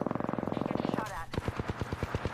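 Rapid automatic gunfire in the video game Apex Legends, a fast, even burst of close shots, a brief pause with a reload-like clack, then slower repeated shots in a steady rhythm.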